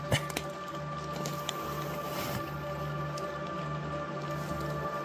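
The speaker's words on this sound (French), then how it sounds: "Mais la pluie c'est un peu dérangeant pour se rendormir." Rain falls steadily through the night on a camp beside an abandoned pond with no tent, a dense patter with a few sharper drops early on, close and fairly loud with no talking.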